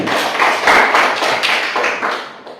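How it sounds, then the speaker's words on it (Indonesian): A classroom group of students claps for a fellow student group after a presentation, a dense burst of hand claps from a small indoor audience that swells and then fades out over a few seconds. "Tepuk tangan sekali lagi untuk kelompok 3"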